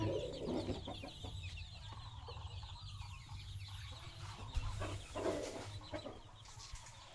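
Chickens and chicks clucking and peeping in a busy chorus, with a steady low hum running underneath throughout.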